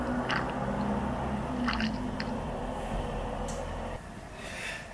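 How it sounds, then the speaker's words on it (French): A person at home takes a small sip of water, with soft close-up mouth and swallowing sounds over a steady, loud background hiss. "je bois un petit coup d'eau"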